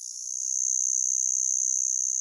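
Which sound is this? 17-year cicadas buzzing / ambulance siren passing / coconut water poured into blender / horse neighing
17-year cicadas buzzing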